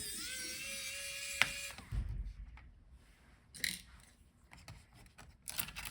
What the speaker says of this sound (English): now let's take out the screws